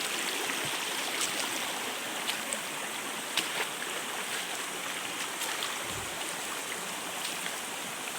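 Steady broadband rush of flowing water, even and unbroken, from a waterfall stream on the trail to the sixth tier of Khao Sip Ha Chan falls, Chanthaburi, Thailand, with no voices.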